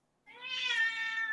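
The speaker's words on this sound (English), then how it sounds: "Some cat. That's my cat." A single drawn-out meow from a pet cat, clear and fairly close, rising then holding a steady tone in a quiet room.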